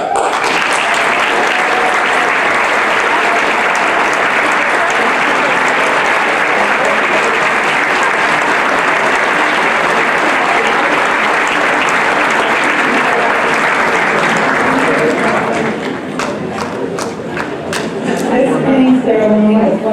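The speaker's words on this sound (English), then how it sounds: "Please stand for a round of applause." Sustained audience applause at a nursing graduation ceremony, loud and dense from a large crowd, thinning into scattered individual claps near the end.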